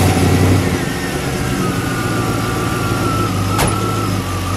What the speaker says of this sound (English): Let's fire it up, shall we?